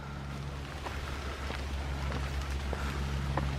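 Steady rain patters softly and continuously, a diffuse hiss with scattered drips, under a low constant hum.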